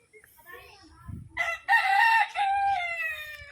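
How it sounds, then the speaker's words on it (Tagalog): A Polish chicken crows at a zoo and animal sanctuary in Pililla, Rizal, giving a loud, strained cock-a-doodle-doo close by. Softer clucks and faint background voices come before it. "Polish chicken"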